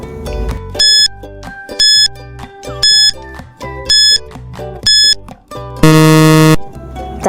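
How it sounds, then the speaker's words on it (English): A quiz countdown timer plays loud, regular electronic beeps about once a second, repeating steadily before ending in a longer, louder buzzer tone. "Your timer starts now."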